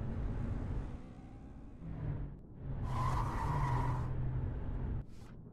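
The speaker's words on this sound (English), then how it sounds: "Why did it sound like someone just drove off?" In a video game, a car skids with a screech of tires and then revs away, engine noise swelling and fading over a few seconds before cutting off abruptly.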